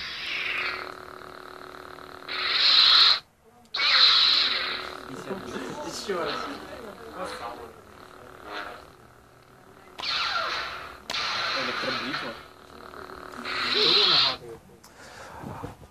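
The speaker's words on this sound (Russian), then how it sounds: "И самый известный его звук, пожалуй, это звук лазерного меча." A film lightsaber effect made from a broken TV cable plug's hum layered with a movie projector's whir, heard as loud buzzing hums that swell and cut off in several bursts, with someone talking in between.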